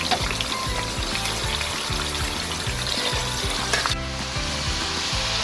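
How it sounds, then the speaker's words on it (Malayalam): Chicken pieces fry in oil for homemade chicken fried rice, a loud, steady crackling sizzle held close throughout, with the scrape and clatter of stirring in the pan and no talking. "നമ്മൾ കറി വയ്ക്കാനുള്ള ചിക്കൻ ആദ്യം എണ്ണയിൽ തന്നെ വറുത്തെടുക്കുകയാണ്."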